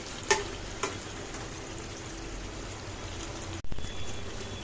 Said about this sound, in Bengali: অল্প একটু গরম জল দেবো।